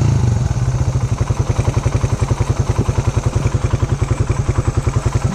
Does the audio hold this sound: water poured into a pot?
no